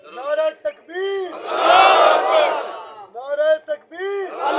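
Political rally crowd roars a loud collective chant in reply to a leader's call, the mass shout swelling in the middle between bursts of a single voice shouting the call before and after.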